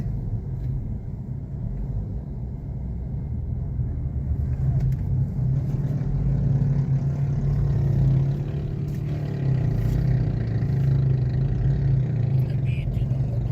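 Motorcycle engine labouring on a steep hill road in Cavite province, a deep continuous rumbling drone that swells louder midway, with a voice talking over it.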